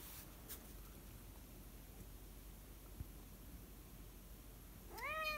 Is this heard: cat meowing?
yes